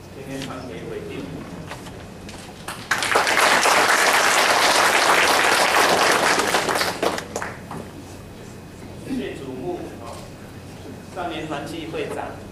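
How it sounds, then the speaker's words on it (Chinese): A crowd at a church ceremony applauds, a dense burst of clapping lasting about four seconds between stretches of someone speaking over a hall microphone. "掌声"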